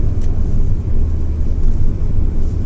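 A Fiat Egea car engine drones steadily while driving, with a continuous low rumble and road noise at close range and no talking.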